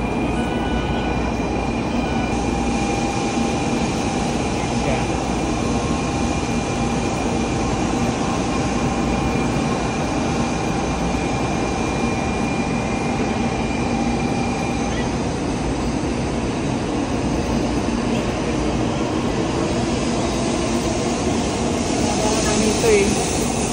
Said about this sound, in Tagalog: So, ayan po yung bullet train. Namin sinakyan. Back to Tokyo.